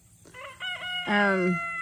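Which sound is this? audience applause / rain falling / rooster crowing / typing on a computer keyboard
rooster crowing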